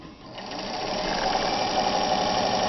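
A sewing machine stitches denim at a longer stitch length, producing a steady, rapid, close mechanical whir that builds slightly and runs continuously on its own.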